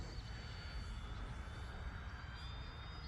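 An E-flite P-47 Razorback RC plane with a 4S battery flies over a pond near trees at about half throttle, its electric motor a steady distant drone with wind noise throughout and no voices.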